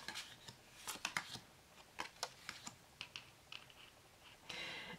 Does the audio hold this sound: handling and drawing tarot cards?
yes